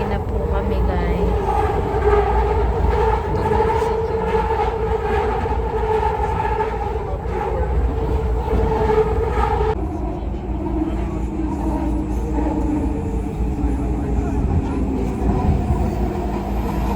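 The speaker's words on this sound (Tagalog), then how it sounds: "Stuck po yung train, guys." A delayed train sits stuck and waiting, its steady low rumble and hum running throughout with a slight drop in tone about two-thirds through; people talk faintly in the background.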